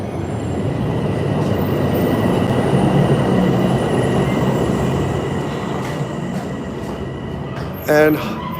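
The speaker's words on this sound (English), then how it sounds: "we're underneath the train" An elevated subway train at 125th Street in Harlem, New York City, rumbles loudly close overhead, a steady roar of wheels on rails with a brief metallic squeal near the end.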